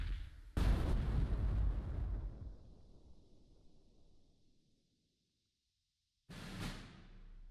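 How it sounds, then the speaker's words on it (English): Mortar strike in a tactical leadership war game: a sudden loud blast with a long rumbling decay that fades to silence, then a second explosion bursts in near the end, with no talk. "we're going to call in a mortar strike"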